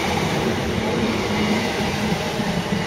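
A Class 317 electric multiple unit passes at Cheshunt station, giving a steady, loud rumble of wheels and motors that holds throughout with no break, close to the listener and with no talk over it.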